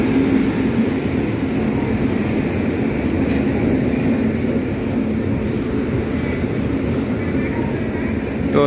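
A passenger train arrives at the Varanasi railway station platform, heard as a dense, continuous rumbling roar that stays steady and loud throughout, with indistinct crowd talk mixed underneath.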